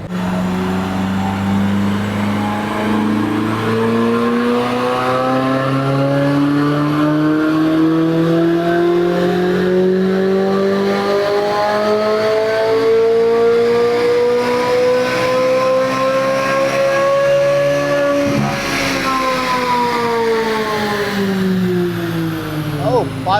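Car engine revving hard through a full-throttle dyno pull during throttle body testing, a loud continuous roar climbing steadily in pitch for about eighteen seconds before easing off.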